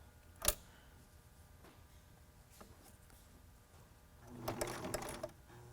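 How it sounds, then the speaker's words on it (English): A sewing machine stitching a face mask made from a T-shirt sounds quietly after a few faint clicks, running in one short burst of rapid stitching near the end. "I found it easier to sew downwards than up because it likes to slip down."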